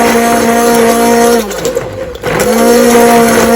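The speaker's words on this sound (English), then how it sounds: "I got my handheld blender and literally I just go in here" A handheld immersion blender whirs in a plastic Tupperware container full of cream of tomato soup. Its steady, loud, close motor whine dips and bogs down for about a second in the middle, then climbs back to full speed.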